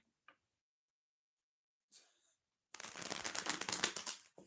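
A tarot card deck shuffled by hand: a couple of faint taps, then a dense, close riffling flutter of cards for nearly two seconds, with no talk.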